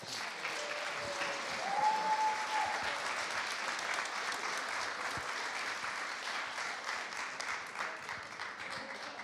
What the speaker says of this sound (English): let's give Eddie a round of applause